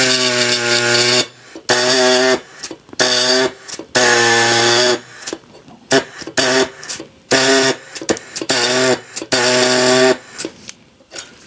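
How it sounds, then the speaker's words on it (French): A jigsaw cuts in repeated loud bursts, its buzzing motor starting and stopping several times with short pauses between strokes, close by. "Petite scie sauteuse, est-ce que ça peut aider?"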